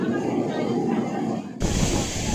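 A fast train running between Mumbai and Lonavala produces a continuous loud rumble and hiss heard from inside the carriage, with the texture shifting abruptly partway through as the roar brightens.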